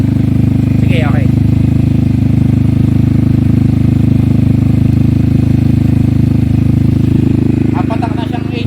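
Yamaha Xmax 300cc scooter fitted with an ATOM project exhaust pipe, idling and held at steady revs with a loud, constant low engine drone throughout, while brief voices are heard faintly in the background.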